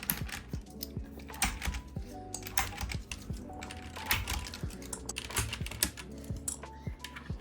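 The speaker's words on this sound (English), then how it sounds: "So I'm going to pull the keys over here." Keycaps are pried one after another off a dirty mechanical keyboard, giving a close, quiet series of sharp plastic clicks and snaps in an irregular rhythm.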